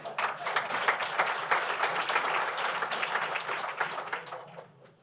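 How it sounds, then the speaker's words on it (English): Applause from a gala audience at a charity auction ball fills the room with steady, dense clapping that holds strong for several seconds, then thins and tapers off toward the end. "everyone clap. Even if you don't win, clap,"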